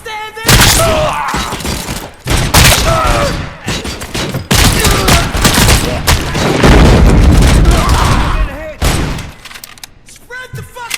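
Heavy gunfire in the video game RoboCop: Rogue City, with loud, rapid bursts and booming shots that continue for several seconds under shouting enemy voices, then break off toward the end.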